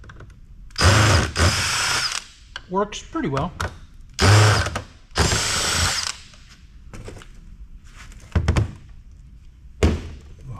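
A power drill driving screws whirs in several short, loud bursts with ratcheting and clunks between them, and a voice speaks briefly near the end.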